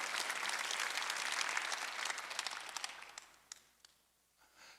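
Church congregation at a Sunday worship service breaking into dense, loud applause that swells and then thins into scattered claps before fading out, with no talking over it.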